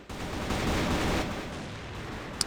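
Gunfire in a competitive shooter video game match: a dense burst of rapid shots lasting about a second, then quieter and fading, with a sharp click at the very end.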